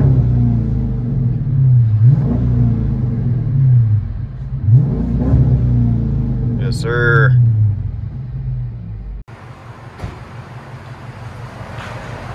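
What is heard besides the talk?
Dodge Charger RT 5.7L HEMI exhaust with Flowmaster Flow FX, interior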